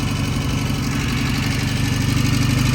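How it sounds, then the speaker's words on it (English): A vintage British motorcycle engine idles steadily at close range, a loud, even, throbbing drone with a regular pulse and no voices. "I might turn this idle down a little bit."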